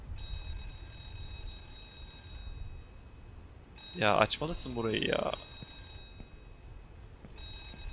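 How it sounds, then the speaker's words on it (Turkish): A telephone rings nonstop in the horror video game Remothered: Broken Porcelain, a steady electronic ring repeating in long bursts with short pauses between them, while someone talks briefly over it. "O telefon susmayacak zaten herhalde."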